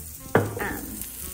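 Tuscan herb infused olive oil poured into a hot pan, setting off a sudden loud sizzle that fades quickly into a softer frying hiss, close by and with no talking.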